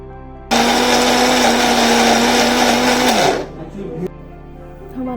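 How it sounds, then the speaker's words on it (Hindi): Cashews ground in a kitchen grinder for about three seconds, a loud steady motor whine that then cuts off, followed by faint rattling and a brief second burst. "अब हम काजू को अच्छी तरह से ग्राइंड कर लेंगे।"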